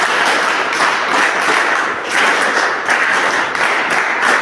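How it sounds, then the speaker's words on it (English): A class of students applauds together at the end of an exam-preparation lesson, steady dense clapping filling the whole stretch with slight swells and dips, fairly close and loud. "So big round of applause"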